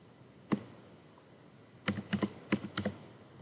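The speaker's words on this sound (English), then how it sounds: "I'm going to type in test." Typing on a computer keyboard, close and fairly quiet: one isolated keystroke, a pause, then a quick run of several keypresses, with no talking.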